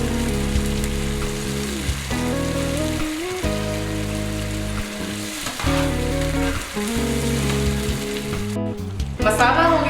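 Masala spice paste frying in a pan for a goat brain fry, giving a loud, continuous crackling sizzle like heavy rain, with short dips where the frying briefly quiets and a faint murmur of voices.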